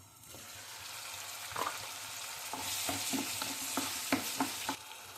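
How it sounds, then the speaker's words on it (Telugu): Tomatoes with ginger-garlic paste fry in a pan, a soft steady sizzle with a series of light spatula taps and scrapes in the second half, fairly quiet and close. "ఇప్పుడు టమోటాలు. ఇప్పుడు ఇవి ఒక 2 నిమిషాలు మగ్గనివ్వాలి."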